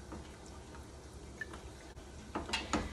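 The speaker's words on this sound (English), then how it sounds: "And we're going to stir that together." Lemon juice is stirred into blackberry juice in a pot, giving soft liquid swishes and faint drips over a low background hum. A few small clinks near the end sound like a utensil touching the pot.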